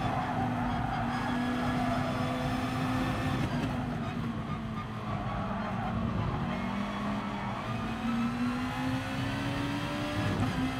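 A race car engine in Gran Turismo Sport drones and climbs steadily under power, pitch dipping and rising again over about eleven seconds, loud and continuous with faint tyre noise.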